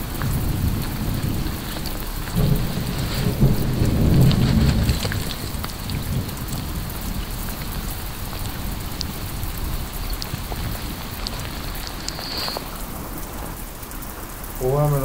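A constant hiss of heavy rain falls, with a low thunder rumble swelling partway through before the downpour continues alone.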